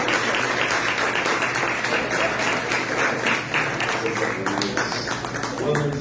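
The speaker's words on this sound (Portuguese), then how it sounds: "dando uma salva de palmas para o Senhor Deus." Church congregation applauding during an evening service, a steady wash of many hands clapping throughout with voices mixed in.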